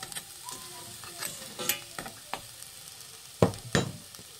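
Vegetables being sautéed and stirred in a pan while cooking ginataang langka with crab, steady soft sizzling broken by a few scraping utensil strokes, close by, with no talking.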